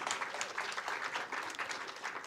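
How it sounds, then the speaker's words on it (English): Audience applause at a debate competition results announcement, a dense, even patter of many hands clapping at a moderate distance, with no voices over it. "May I have a round of applause"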